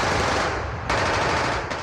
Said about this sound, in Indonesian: Suara tembakan, keras sekali.